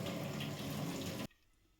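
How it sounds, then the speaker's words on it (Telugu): A short burst of running water splashing over dried shrimp in a bowl or sink, close and steady, cutting off abruptly into near silence. "వాటిని 2 టైమ్స్ అలా క్లీన్ చేసుకోవాలి వాటర్‌తో"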